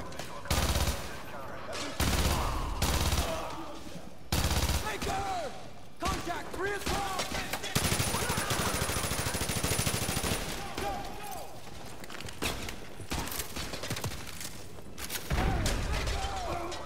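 Bursts of TAR assault rifle fire in Call of Duty: Modern Warfare 2 crack in loud, rapid volleys separated by short pauses, with someone talking between and over the shooting.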